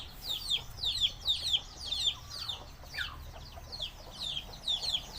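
Native Thai backyard chickens cluck in a string of short, close calls, bursts repeating every second or so over a low farmyard hum, with no one speaking.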